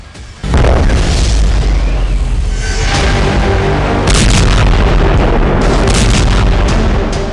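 A hypersonic missile strike lands on Tel Aviv with a sudden, very loud booming blast, followed by sustained roaring rumble and further heavy crackling bursts.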